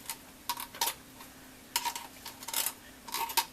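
Half a can of precooked corned beef hash going into creamed chipped beef, heard as a few scattered scraping and tapping clicks of a spoon against metal, quiet and close with short pauses between.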